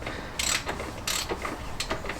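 A ratchet clicks in short bursts while undoing a bolt behind the engine of a classic Fiat 500, three or four quick close rattling runs separated by brief pauses.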